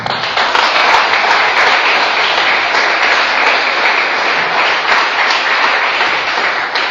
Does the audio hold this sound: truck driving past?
no